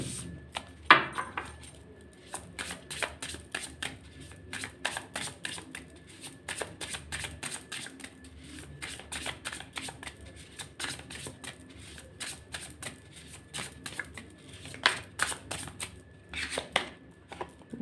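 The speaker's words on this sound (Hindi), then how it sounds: "some more cards for you guys." Tarot cards shuffled by hand in a steady, close, crisp riffle of papery flicks and soft slaps that runs continuously, with one louder snap near the start.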